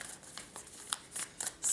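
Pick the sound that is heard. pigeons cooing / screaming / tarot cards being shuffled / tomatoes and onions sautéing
tarot cards being shuffled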